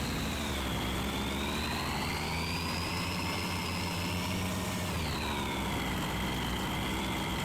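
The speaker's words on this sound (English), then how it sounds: "The truck is doing pretty good up this hill too, hauling this tractor." A pickup truck engine labors steadily uphill while hauling a tractor on a trailer, a loud continuous drone with a rising and falling whine, no talking.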